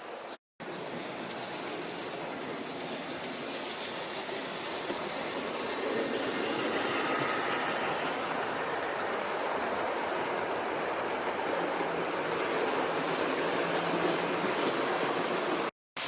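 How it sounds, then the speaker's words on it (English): A Hornby tender-drive model locomotive hauls nine Gresley teak coaches, some on metal wheels and some on plastic, producing a steady, continuous rolling rumble and clatter on the track that grows slightly louder partway through, with no talking. "Tranquil is hauling 9 of the Gresley railroad teaks."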